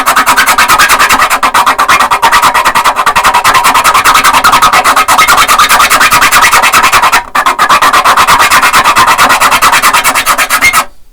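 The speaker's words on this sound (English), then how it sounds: "that's basically what I'm doing, is just filing the edges flat" A metal file rasps along the edges of the frets on a Seagull Entourage guitar, making loud, close, rapid back-and-forth strokes that continue for about eleven seconds with a brief pause midway.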